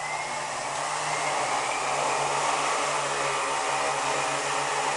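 A toy quadcopter drone hovers with a steady, loud whirring hum of its small motors, a continuous high buzz holding evenly from start to finish with no talk.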